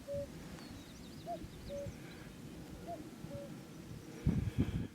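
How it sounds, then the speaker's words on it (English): A cuckoo-like bird calls on a coastal trail near St David's on the Welsh coast, giving faint repeated two-note hoots at a steady pace over low wind and rustling in the distance. "Sounds like a cuckoo bird, doesn't it?"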